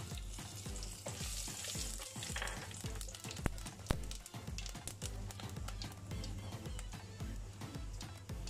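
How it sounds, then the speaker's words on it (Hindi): Cumin and fenugreek seeds fry in olive oil in a pan, a dense close sizzle with fine crackles and a couple of sharp pops, quiet overall and free of talk. "जब ये अच्छे से हीट अप हो जाएगा तो इसमें हम ज़ीरा और मेथी दाना वो डाल देंगे"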